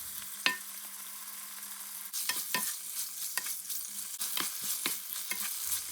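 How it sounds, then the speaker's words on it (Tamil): Chicken pieces sautéing in oil with salt, being stirred: a steady close sizzle runs throughout, broken by several sharp scraping stirs, with the frying growing louder after the first couple of seconds. No voices. "முதல்ல வந்து கோழிச்சதையை கொஞ்சம் எண்ணெய் விட்டு அதில் ஒரு வதக்கி எடுக்க வேணும்."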